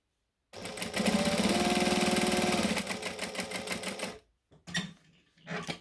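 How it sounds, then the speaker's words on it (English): A sewing machine runs a rapid, steady stitching burr while top stitching around a pocket. It stops, then gives two short bursts after brief pauses. "we're going to just stick some nice top stitching"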